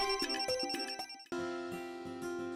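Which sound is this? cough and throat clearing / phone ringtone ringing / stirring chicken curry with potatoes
phone ringtone ringing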